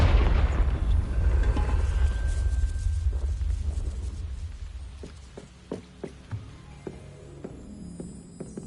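A Confringo blasting curse bursts in Hogwarts Legacy, a loud booming impact at the start that rumbles and decays over several seconds, followed by scattered faint clicks and knocks.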